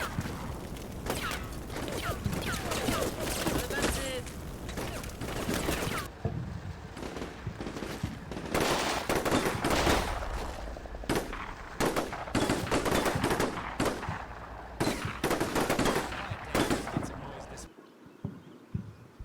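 Machine gun fire in the Combat Mission Shock Force 2 video game, an ambush around high city walls: dense, loud bursts of automatic fire crackling almost continuously, mixed with other shots and battle noise.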